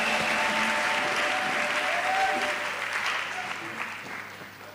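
A church congregation at a deliverance service in Cameroon applauds loudly and steadily, a dense crowd clapping that gradually thins and fades toward the end, with some voices faintly underneath.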